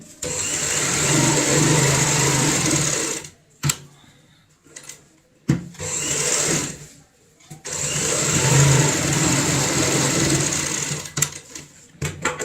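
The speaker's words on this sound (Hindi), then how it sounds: "हम यहाँ पे बड़ी सफाई के साथ सिलाई लगाएंगे।" Close, loud bursts of a sewing machine stitching a cushion cover, with a long run, a pause, a shorter run and another long run, and brief handling knocks between them.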